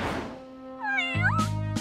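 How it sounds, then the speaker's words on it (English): A cartoon kitten trapped up high gives one wavering, high-pitched meow over steady background tones, with a dull thunk just before it and another soft knock at the end. "The little kitty is trapped right up there."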